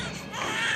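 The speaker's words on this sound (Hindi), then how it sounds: "बालक रोने की आवाज आओ है।" An infant cries in a steady, close wail that fills the short moment with a continuous, strained tone.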